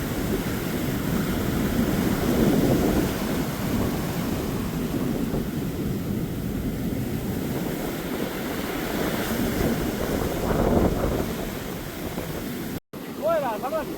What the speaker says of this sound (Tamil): பெரிய அலைகள் வருது